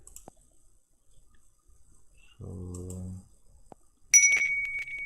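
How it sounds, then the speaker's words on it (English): A short bright chime rings from a software app when a button is clicked, heard once loud and clear near the end after a faint click and a short stretch of someone speaking. "there is a chime every time you click a button"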